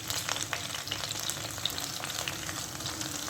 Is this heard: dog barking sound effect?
no